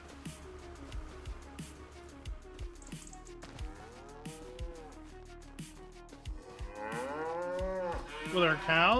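Cattle in the Farming Simulator 25 game low repeatedly, a string of separate moos spaced across the clip, with a louder, wavering call building near the end.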